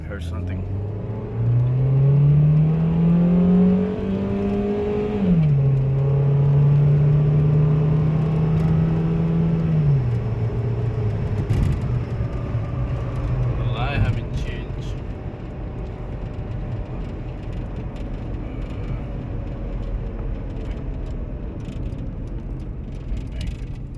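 Honda engine with VTEC and EGR faults pulling away and accelerating on a road drive, a steady in-cabin rumble with rising then levelling engine tone, a brief shift near the middle, with a voice speaking over it.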